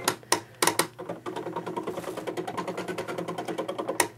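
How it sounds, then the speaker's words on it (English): An eCraft cutting machine cutting cardstock, heard up close as a loud, rapid mechanical clatter with a steady pulsing rhythm, broken by a few sharper knocks near the start and the end. "get our eCraft machine to cut this"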